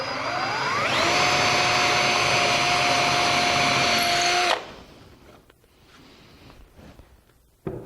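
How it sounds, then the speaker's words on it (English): A power drill with a brad point bit bores a hole in scrap wood, a steady loud whine that rises in pitch, holds for several seconds, then cuts off, leaving quiet workshop handling noise. "drill your hole. Now a brad point bit or a little Forstner bit's the best"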